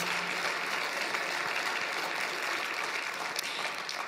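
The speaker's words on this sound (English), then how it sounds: "Please give both our speakers a round of applause." A conference audience at an energy symposium applauds two panel speakers, a steady wash of clapping that carries on for several seconds, moderately quiet and without talk.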